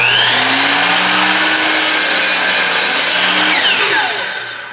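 A miter saw cuts through wood while building a gas pump project, its motor whining loud and steady through the whole cut before spinning down near the end, with no talking.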